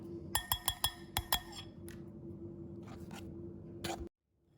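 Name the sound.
ice cubes clinking in a glass with water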